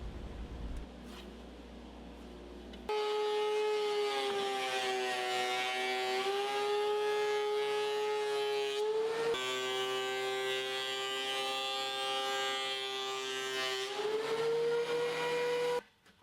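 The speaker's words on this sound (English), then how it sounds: "I can remove it from the sled and simply run it through the planer" A thickness planer flattening wood boards, starting with a loud steady machine whine as a board feeds through, holding an even pitch for about thirteen seconds with a slight dip before cutting off.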